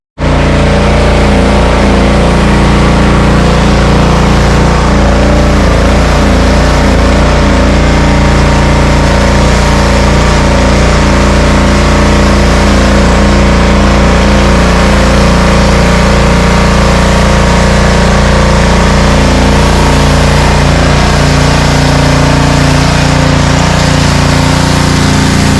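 A power washer running with a foam cannon attached while foaming a car, its motor droning loudly and steadily for the whole stretch with no talking.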